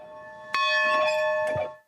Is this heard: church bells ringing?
yes